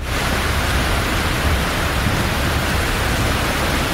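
Heavy monsoon rain pours down in Jaisalmer, Rajasthan, a dense, steady hiss of rainfall with no breaks, loud and close throughout.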